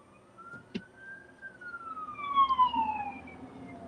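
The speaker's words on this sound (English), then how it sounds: "Oh no, it's an ambulance." An ambulance siren sweeping past, its wailing tone rising and then sliding downward as the vehicle moves away, fairly close and clear over a low traffic rumble.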